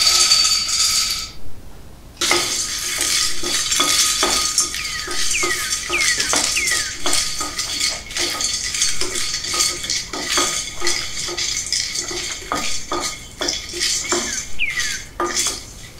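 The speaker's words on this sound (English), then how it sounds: "I'm going to saute dry roast this lotus seed in a very medium and in a very small flame" Lotus seeds dry-roast in a pan over a small flame, a metal spoon scraping and clinking in steady rapid strokes against the pan with a dry rattle underneath, close and continuous with no talk.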